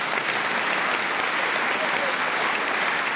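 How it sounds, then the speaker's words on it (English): Sustained audience applause at a recognition ceremony, a dense, loud wash of many hands clapping steadily from a large crowd without letup. "once they're done clapping"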